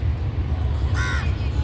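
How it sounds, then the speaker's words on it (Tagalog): A crow at a seaside pier gives one loud, harsh caw that stands out briefly above steady low wind and harbor rumble. "Tignan mo yung uwak na yan, oh."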